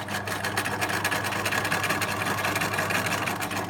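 A sewing machine zigzag-stitches along the fabric edges of a pencil case, a steady close, continuous mechanical whir with no pauses.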